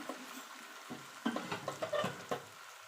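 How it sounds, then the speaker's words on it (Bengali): Chira (flattened rice) rasbora fritters go one by one into shallow oil over a low-to-medium gas flame, giving a soft, steady sizzle broken by a few sharper spits and clicks, fairly quiet and close. "এবার একটা একটা করে আমি দিয়ে দেবো পিঠেগুলো।"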